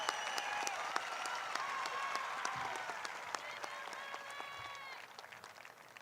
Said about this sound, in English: Let's give a big round of applause for our students that worked hard and earned the class of 22